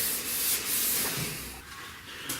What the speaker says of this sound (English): Let's just get sanding on the cage here.